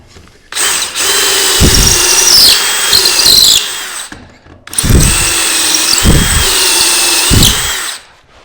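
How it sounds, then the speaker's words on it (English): A power drill whines loudly in two long bursts, pausing briefly between them, with the bit grinding and chattering as it bores pocket holes into wood for a face frame. "There's my little drill."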